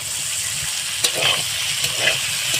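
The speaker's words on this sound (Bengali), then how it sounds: "অল্প সামান্য লঙ্কার গুঁড়ো দিয়ে দিলাম দিয়ে আবারও আমি পাঁচ মিনিট ভেজে নিলাম" Spiced potatoes seasoned with salt and chili powder fry in a pan, giving a steady close sizzle with a few light scraping stirs, heard alone without talk.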